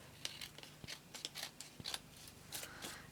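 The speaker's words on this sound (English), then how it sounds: "So let me trim this off." Scissors trimming scrapbooking paper: a quick series of quiet, crisp snips and paper rustles, close up and with no talk.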